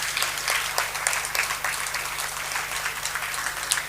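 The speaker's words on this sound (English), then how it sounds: "A round of applause" An audience at an annual prize distribution ceremony claps continuously for a few seconds, a dense even patter with no voices, plus a faint steady hum underneath.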